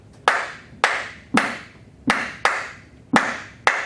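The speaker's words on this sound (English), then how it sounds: "Or did you want to clap the 5-note clave for me?" Hand claps beat out a 5-note clave rhythm in a hand drumming lesson, crisp and close, evenly spaced sharp claps alone with no talk.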